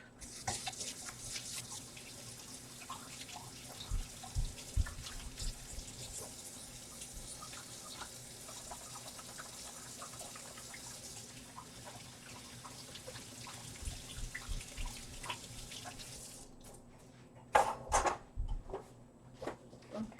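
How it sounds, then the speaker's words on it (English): Hands are washed under a running tap at a sink during live Kool-Aid yarn dyeing; a steady stream of water splashes for most of the stretch, then cuts off, followed by a few close knocks and clatters. "Washing hands."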